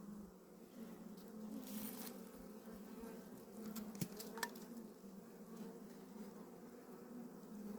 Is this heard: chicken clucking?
no